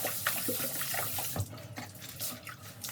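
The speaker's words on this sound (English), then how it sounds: "Now I'm going to rinse my rag once more." Water from a bathroom sink tap runs steadily while a cleaning rag is rinsed under it, with splashing and sloshing bursts as the cloth is pushed through the stream, close and moderately loud.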